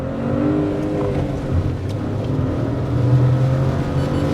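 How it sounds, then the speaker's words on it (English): A Citroen C3 turbo-petrol engine pulls hard from a standstill in first gear, a steady rising engine drone with shifting tones heard from inside the car, continuous and moderately loud without talk. "now we are going to sprint from a standstill"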